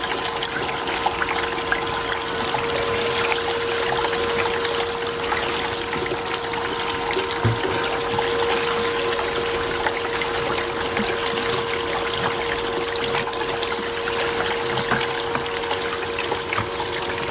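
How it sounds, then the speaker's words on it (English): Pump pouring water into a gold sluice, a steady loud gushing and trickling flow with a constant mechanical hum underneath, unbroken throughout. "If we tip too much water in here and it'll overflow out the back of the sluice."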